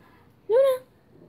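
A house cat gives a single short meow, rising then falling, close and clear against a quiet room.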